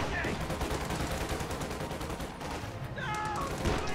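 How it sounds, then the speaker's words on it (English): A .50 cal machine gun firing in a video game, sounding as dense, rapid bursts of gunfire that run almost without pause through the clip amid a busy, noisy battle mix with brief game chirps. "50 cal rotates to fire on this stuff."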